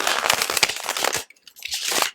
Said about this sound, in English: I'll shuffle them again just for you guys.